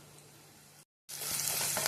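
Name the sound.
curry leaves sizzling in hot oil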